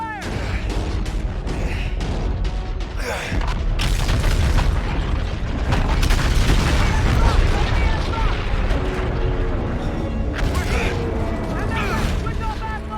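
Dense, continuous battle din from Call of Duty Infinite Warfare: repeated booming explosions and rapid gunfire layered into a loud, unbroken roar, with shouted voices mixed in throughout.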